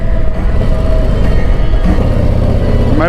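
A 2023 Harley-Davidson Street Glide CVO touring motorcycle runs nearby with a loud, steady engine drone that holds throughout, then a brief rising rev at the very end, with no talk.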